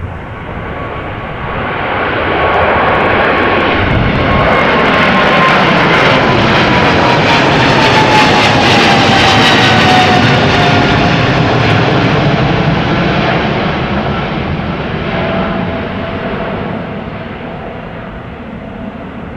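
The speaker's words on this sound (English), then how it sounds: "taxi to the runway. Going to Guangzhou. 777 freighter, 13 years old," A 13-year-old Boeing 777 freighter bound for Guangzhou taxis toward the runway at a windy Amsterdam Schiphol, its loud jet engine whine swelling as it passes close, a steady tone sliding downward, then easing off as it moves away.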